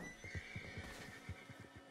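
A horse named Coco whinnies in Red Dead Redemption 2, a high neigh carried over a rapid low thudding of hooves, fairly faint.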